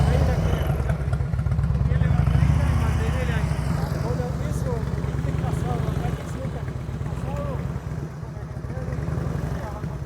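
A motorcycle engine idles and lugs at low RPM during a riding lesson, a steady low throbbing pulse throughout with slight dips, close by, while people talk over it.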